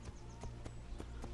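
Horse hooves clip-clopping in Assassin's Creed Brotherhood, a steady run of evenly spaced, moderately close hoofbeats over a constant low game hum.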